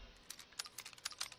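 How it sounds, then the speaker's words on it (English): Keys tapped on a computer keyboard while playing a Unity survival game, a quick run of several sharp, close clicks in an irregular rhythm with no talking. "Let's push R on our keyboard."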